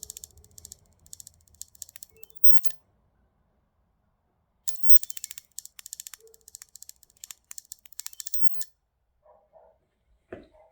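An X-Pest ultrasonic rodent repeller gives off rapid, fairly faint mechanical clicking in two long bursts, with a quiet pause between them and a few soft tones near the end.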